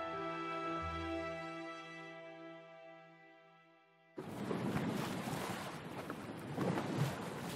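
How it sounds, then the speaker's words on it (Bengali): A boat pushes quickly across river water in an audio drama, a broad, steady wash of water and wind that rises abruptly midway after a fading sustained musical tone. "নদীর জল কেটে দ্রুত এগোচ্ছিল নৌকাটা"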